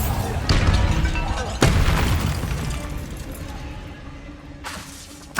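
Bombarda spell explosions in Hogwarts Legacy: a loud booming blast with shattering debris, a second sharp explosion a moment later that rumbles away, then another burst near the end.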